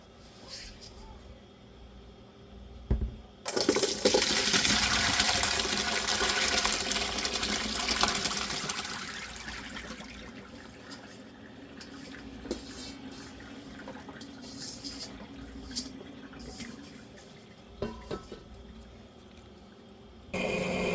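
Salt water pouring off watermelon rinds in a kitchen as they are drained after an overnight soak, a burst of splashing and running liquid followed by scattered drips and small clinks.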